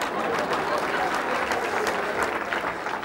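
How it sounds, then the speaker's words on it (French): Steady applause from an audience cheering a performer, dense continuous clapping throughout with a faint murmur of the crowd underneath. "Non, mais il faut l'applaudir, hein, parce qu'il fait très bien."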